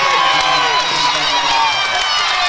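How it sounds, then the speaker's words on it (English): Skyview fans cheering at a girls high school basketball game against Snow Canyon, a loud continuous crowd roar filling the gym with shouts mixed in, no pauses. "that cheering that you hear, it's all the Skyview fans behind us"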